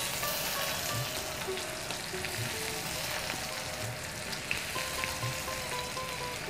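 Chopped onion fries in hot oil in a pan with bay leaves and black cardamom, giving a dense, steady sizzle close up, with faint occasional stirring sounds and no talking.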